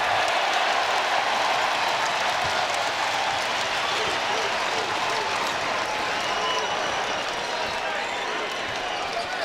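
A packed arena crowd claps and cheers through a Texas versus Tennessee college basketball game, a steady dense roar of applause lasting the whole stretch, with a commentator talking over it.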